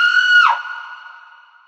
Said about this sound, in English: I heard a scream in the distance.